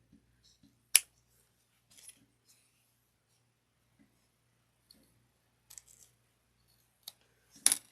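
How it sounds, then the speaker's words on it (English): Scissors trim fabric flush against zipper tape in a quiet room, giving a handful of faint, crisp snips and clicks spaced irregularly, with one sharper cut near the start and another near the end. "Then I'm going to cut it nice and flush to the zipper tape."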